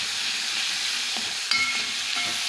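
Fatteh sauce with a little coriander is stirred in a pot, producing a continuous hiss and sizzle with a few light scraping knocks of the utensil partway through.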